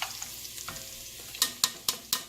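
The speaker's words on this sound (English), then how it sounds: "Okay, so you saute your garlic. You saute it for a couple of seconds." Garlic sautés in a hot pan for homemade pasta sauce, with a soft sizzle and several sharp stirring clacks near the end, close and fairly quiet.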